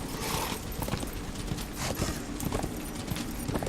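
Horse hooves clip-clop at a steady trot in the video game Darksiders, mixed into a dense, busy game soundscape that stays fairly loud throughout.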